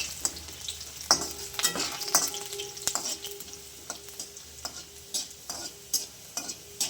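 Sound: chopped ginger frying and being stirred for dal tadka

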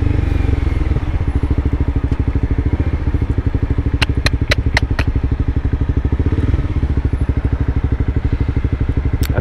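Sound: motorcycle engine idling at a stop in traffic

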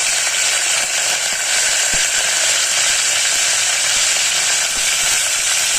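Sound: curry leaves sizzling when added to the pan

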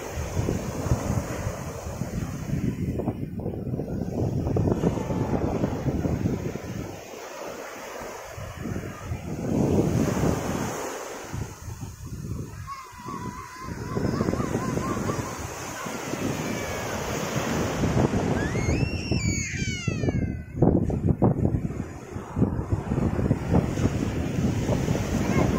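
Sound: beach with waves and wind at Pantai Penarik, Setiu

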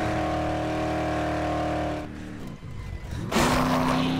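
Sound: car driving in the video game Dead Island

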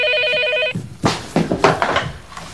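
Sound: telephone ringing

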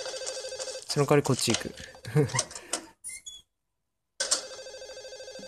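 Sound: telephone ringing in video game Silent Hill 4: The Room

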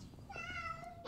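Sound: cat meowing

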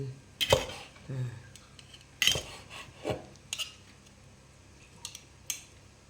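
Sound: slicing boiled cow skin with a knife

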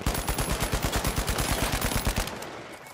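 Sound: gunfire in a video game

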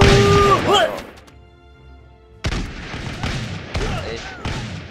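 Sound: muskets firing in Totally Accurate Battle Simulator video game

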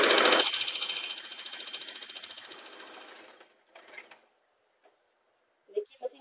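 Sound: USHA Janome Wonder Stitch sewing machine stitching fabric

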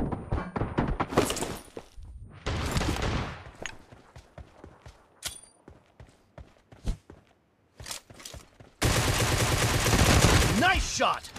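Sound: gunfire in a shooting video game

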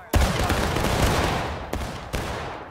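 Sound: musket volley fire in video game War of Rights

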